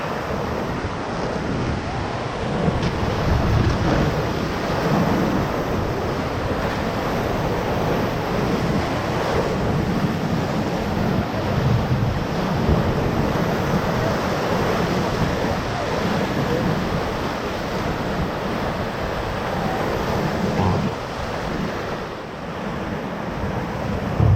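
Whitewater rapids on the Middle Ocoee River during a rafting run, a steady loud roar of rushing, churning water with wind buffeting the microphone throughout and no talk.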